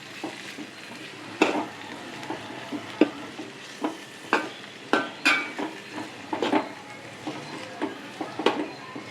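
Drumstick and tomato curry sizzles in a pan as turmeric goes in, with a steady frying hiss broken by repeated stirring scrapes and light utensil clinks, close and fairly loud.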